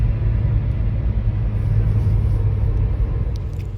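A Peugeot 106 car on the move, heard as a loud, steady low rumble of engine and road noise that barely changes, with no voices.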